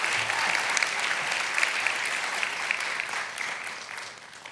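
A large crowd applauds at a college commencement ceremony. The clapping is sustained and even throughout, then fades slightly at the end.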